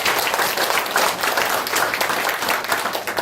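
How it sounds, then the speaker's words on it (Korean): An audience at a local election review meeting in Daegu claps warmly for a guest being introduced, producing dense, even applause that stays loud throughout the short stretch. "한 분 한 분 소개해드릴 때마다 마찬가지로 아낌없는 박수 부탁드리겠습니다"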